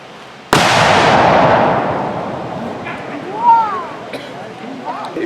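A Civil War reenactment cannon fires with one sudden, loud boom that rolls off in a long fading rumble, followed by scattered faint voices and small sounds.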